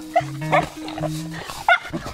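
Small dogs yip and bark in short bursts close by, mixed with high whimpering tones and a voice talking over them.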